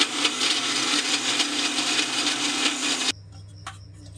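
A mixer grinder whirs as it grinds a cut pomegranate in its jar, a loud, steady buzzing roar for about three seconds before it cuts off, leaving a low hum and a small clunk.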